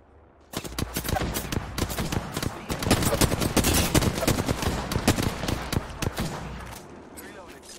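Video game firefight with rapid bursts of gunfire, dense overlapping shots and automatic fire, fairly loud and continuous for several seconds.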